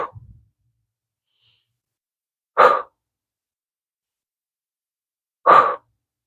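Slow, deep belly breaths during yoga practice: a short breath at the start, then two long, airy exhales spaced about three seconds apart in near silence.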